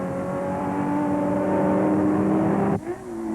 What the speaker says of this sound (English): Bob Grossman 6th in a 4-liter prototype Ferrari.